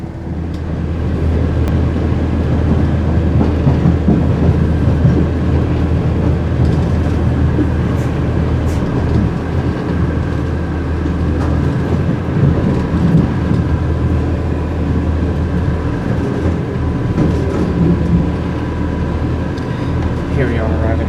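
An Irish railway train pulls into Dublin, heard from on board as a continuous low rumble of wheels and motors. A voice is heard over the rumble.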